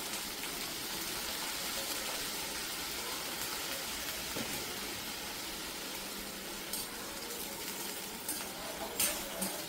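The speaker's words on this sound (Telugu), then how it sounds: "నూనె కాగిన తర్వాత వంకాయలు వేసుకోవాలి" Brinjals sizzle in hot oil for an Andhra-style brinjal chutney, a steady, close, hissing fry with a few faint utensil clinks toward the end and no talking.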